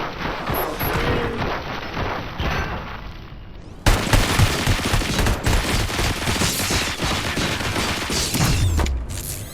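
Sustained gunfire rattles in the RoboCop Rogue City video game, a dense, loud fusillade of rapid shots with booming impacts that continues throughout and intensifies after a sharp blast partway through.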